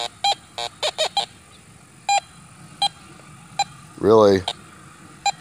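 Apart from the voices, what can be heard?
metal detector signal over nails, Minelab CTX 3030 or Fisher F19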